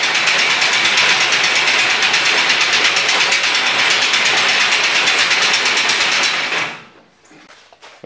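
An old hay elevator runs on its motor with a loud, steady, rattling mechanical drone and rhythmic clatter close by, then winds down and stops near the end, leaving a quieter background.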